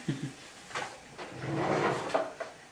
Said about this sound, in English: If you open up this drawer